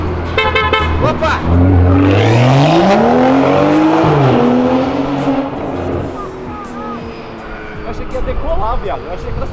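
A car engine roars loudly as the car accelerates hard past on a street. The rising, swelling note is close and dominant before it fades into general traffic noise.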